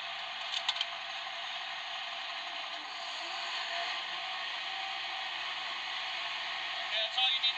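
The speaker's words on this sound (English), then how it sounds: "So we're going to repressurize it and suck that jib" A Bronto aerial platform's hydraulics repressurize and pull the jib in tight against the main boom, producing a steady, continuous mechanical whine and hum with a few faint clicks near the start and end.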